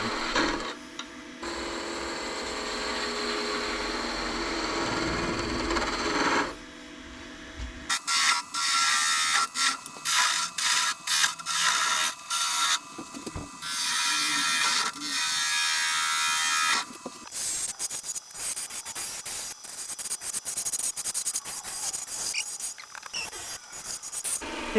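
Poplar spins on a wood lathe under a skew chisel, giving loud, rough scraping and hissing cuts in bursts with short pauses, and the motor hums between passes.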